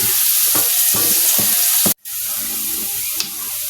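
Garlic frying in a pan for a shrimp dish, a steady bright sizzle with short stirring scrapes and a brief break partway through, close and alone.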